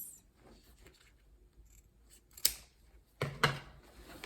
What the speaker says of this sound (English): I'm gonna trim this.